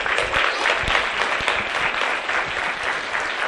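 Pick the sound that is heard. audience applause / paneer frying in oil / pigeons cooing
audience applause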